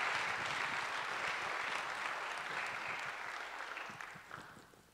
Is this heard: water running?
no